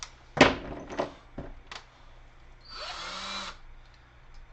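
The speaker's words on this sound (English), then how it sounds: "time to drill some holes that are actually straight up and down" Power drill boring straight vertical holes into wooden stools during a case build, with sharp knocks and clatter early on, then a steady whirring drill run lasting about a second.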